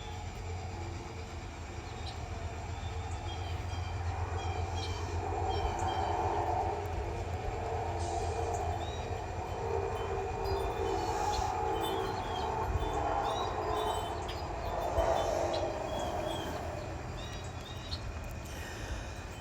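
The Parkersburg-Cincinnati train rolls through the Chillicothe interchange with a steady low rumble and the squeal and clatter of cars, while birds chirp faintly in the background.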